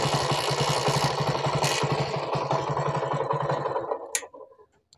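A TVS XL 100 moped with a faulty kick-start mechanism gives a fast, steady mechanical clatter, like a rapid run of close, loud ticks, for about four seconds. Then it stops abruptly with one sharp click.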